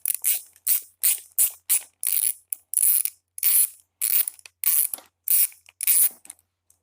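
A screwdriver backs screws out of a Craftsman 550 PSI pressure washer carburetor, a rapid ratcheting clicking in about a dozen short, sharp bursts, close and crisp against silence.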